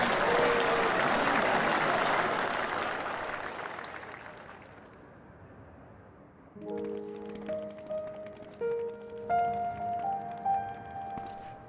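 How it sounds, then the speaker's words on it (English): A crowd claps politely in a Final Fantasy XIV Dawntrail cutscene, steady applause that slowly fades away before gentle orchestral music takes over. "With polite applause."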